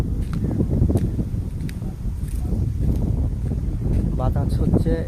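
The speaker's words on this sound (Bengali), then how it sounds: "আর শব্দ নদীর তীরে বাতাস, জলের স্রোত ইত্যাদি" Steady wind buffets the microphone on the bank of the Padma river in Bangladesh, a continuous low rumbling roar with faint rustling, water movement indistinct beneath it, with brief higher tonal bits near the end.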